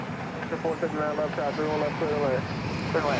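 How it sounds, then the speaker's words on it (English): An airliner, Flight 2588 from St. Louis, touches down at Dallas Love Field after dark. Its steady engine roar fills the scene while a voice talks over it. "just about to touch down. Flight 2588 from St. Louis on runway DFW"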